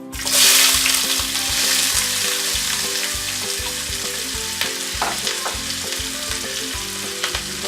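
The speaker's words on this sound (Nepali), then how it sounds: "प्याजलाई ब्राउन हुने बेलासम्म हामी यसलाई फ्राई गर्नेछौँ।" Onions fry in a pan with a loud, steady sizzle and crackle, with rhythmic scraping as they are stirred, and no one talking.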